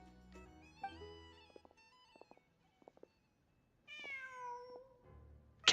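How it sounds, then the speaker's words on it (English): A cat in a video game meows once, clear and close, after a stretch of soft chimes and sparse clicks, with a brief loud sound at the very end. "Just a cat."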